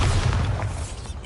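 A deep booming explosion from the Bombarda spell in the video game Hogwarts Legacy, a loud low rumbling burst that fades quickly over about a second.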